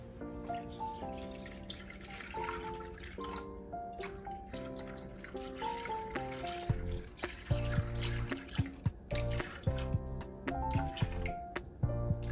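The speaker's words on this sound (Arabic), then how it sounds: "غنزيدو 600 غرام ديال الحليب" 600 grams of milk poured into a Thermomix TM6 for crepe batter, a steady wet splashing and trickling heard over tonal background music.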